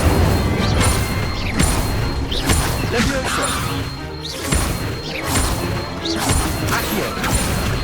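The Incendio fire spell cast in Hogwarts Legacy, a run of loud crashing and whooshing bursts from the magic with thuds between them.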